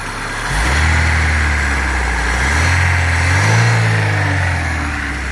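A Daewoo Nexia engine with its alternator belt removed cranks and catches, then runs loud and close, rising and falling in pitch as it revs, with no talk.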